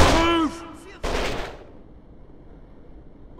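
Gunfire in the Kane & Lynch 2: Dog Days video game, sharp loud bursts at the start and again about a second in, then a quieter lingering tail. A shouted voice mixes in early.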